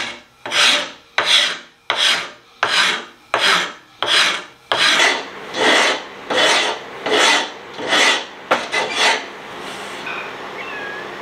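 Rasp strokes shape the wooden handle of a Harbor Freight Pulaski axe, about a dozen loud, rhythmic scraping passes close by, evenly spaced at first and then quicker and quieter before stopping.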